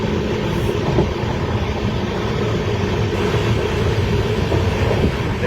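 Sealdah–Jalpaiguri Road Humsafar Express, train number 13115, running in North Bengal near the Barsoi curve, with a steady, loud, continuous rumble of wheels and carriages throughout, no voices.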